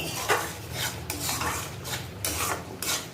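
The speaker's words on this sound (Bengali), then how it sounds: "ততক্ষণ আমি রান্নাঘরগুলো পরিষ্কার পরিচ্ছন্ন করে" Pots, dishes and cutlery clatter and scrape in a home kitchen during cleanup, with repeated close metallic knocks and rubbing in an uneven rhythm and no voices.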